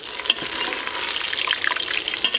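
Onions fry and brown in hot oil for haleem, a dense crackling sizzle with fine popping spatters, steady and close throughout.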